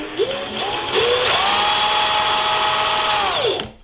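A DeWALT DCF899 20V cordless impact wrench spins up with no load on speed setting 2, whirring in short bursts that rise in pitch and then settles into a steady high whine for a couple of seconds before cutting off.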